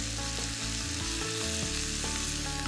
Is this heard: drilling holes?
no